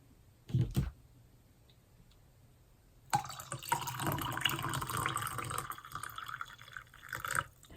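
Water poured into a cup for tea, cooled a little below boiling, a short clink and then a steady trickling pour lasting several seconds, close and soft in a quiet room with no talk.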